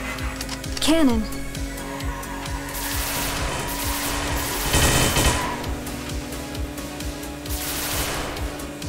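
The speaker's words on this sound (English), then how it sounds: "Cannon." A cannon fires repeatedly in the RollCats video game, giving rapid rattling bursts of gunfire-like blasts over a droning engine and game music, with a voice briefly calling out between shots.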